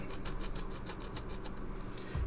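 Countersink bit turned by hand against a plastic model kit part, giving a fine, close rasping scrape in quick repeated strokes, quiet and alone.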